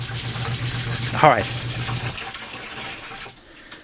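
Hot water running steadily from a tap fed by a ThermoMate 11k tankless water heater, a continuous rushing hiss with a brief spoken remark over it, then the flow tapering off.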